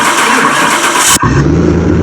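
Lamborghini Huracán with a custom ECU tune cranking and catching, a loud close starter whir that breaks off abruptly into a steady lower engine running sound, with no talking.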